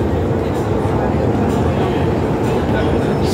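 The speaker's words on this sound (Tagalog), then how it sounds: "dumating na yung train na papuntang Tsuen Wan" An MTR train arrives at Admiralty station in Hong Kong during rush hour, a dense continuous rumble and roar of the underground platform at close range with crowd noise mixed in.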